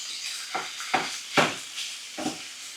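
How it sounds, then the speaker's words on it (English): Ground beef and Italian sausage in a pan are broken apart with a tool, several soft scraping strokes spaced about half a second apart over a faint sizzle. "we're gonna go ahead and break this meat up and let it cook through"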